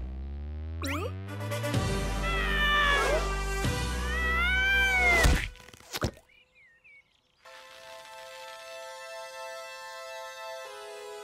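A cartoonish cat meows in long, wavering, drawn-out cries over a low rumble, followed by sharp effects and a brighter musical tone.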